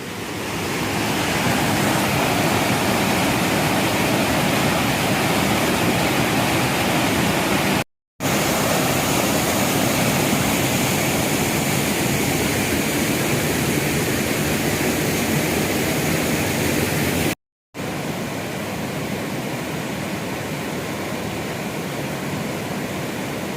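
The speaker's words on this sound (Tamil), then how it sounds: "ஏங்க இதை போய் சிற்றருவிங்கிறாங்க, இது பேரருவி மாதிரி இருக்குங்க. அவ்வளோ பெரிய அருவி, செம்ம தண்ணிங்க" Chittraruvi waterfall at the Arapalieswarar temple, a large forest waterfall in full flow, roars as a loud, steady wash of falling water that fills the whole stretch without letup, broken only by two brief gaps.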